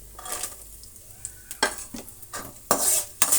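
Chopped ginger and garlic fry in a pan for rice bath, a soft steady sizzle broken by several sharp scraping stirs of a utensil against the pan, close and fairly loud, with no talking.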